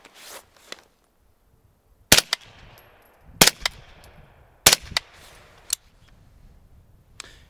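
Suppressed gunshots from a pistol-caliber gun fitted with a CGS Mod 9 SK suppressor, fired outdoors: four sharp cracks spaced about a second apart, each followed by a quick metallic clack of the action, with a few fainter clicks before and after.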